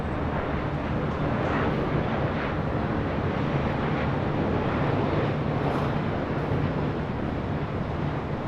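A Southwest Airlines airliner at LAX roars steadily as a broad, constant jet rumble, heard from a distance with wind buffeting the microphone throughout and no speech.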